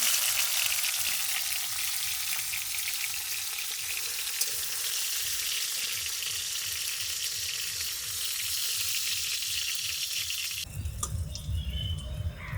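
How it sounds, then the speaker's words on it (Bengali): Prawns frying in oil in a wok give a close, continuous hiss and crackle that stays loud and even, then cuts off near the end into quieter, clattering kitchen sounds. "মাছগুলো ভাজা হয়ে গেছে"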